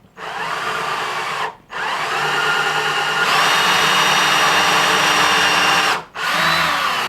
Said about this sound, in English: and we'll start drilling